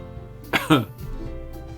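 A short double cough, two sharp bursts close together, followed by quiet.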